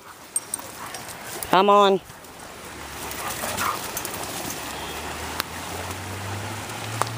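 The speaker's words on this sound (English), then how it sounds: "stop the barking, okay?" One short, loud dog bark or yelp stands out early over a steady rush of creek water outdoors, with a few faint clicks and someone speaking briefly.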